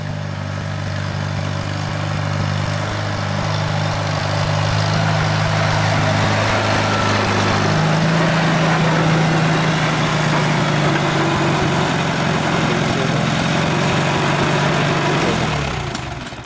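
International 240 tractor from 1963 running with a newly fitted Zenith carburetor, a steady close engine drone that holds its idle with a slight pitch shift midway, loud and uninterrupted.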